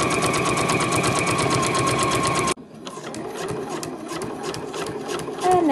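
A sewing machine runs steadily, stitching binding onto the edge of a fabric crown, a fast close rhythmic whir that stops abruptly, then softer handling noise and a brief restart follow.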